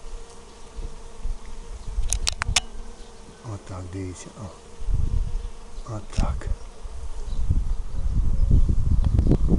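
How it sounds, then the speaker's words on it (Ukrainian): Honeybees buzz continuously over flowering phacelia in summer, a dense close hum with individual bees passing near, while someone speaks briefly in Ukrainian. "І всі бджолки працюють, літають"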